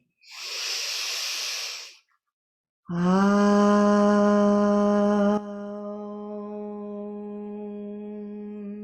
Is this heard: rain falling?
no